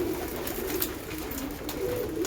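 Pigeons coo in low, repeated warbles while pecking at grit, a continuous close murmur of cooing with faint scratching and movement.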